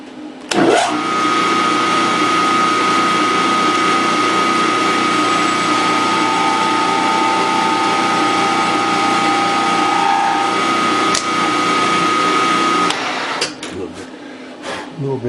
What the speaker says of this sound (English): I'm going to bore that. I'm going to put in power feed.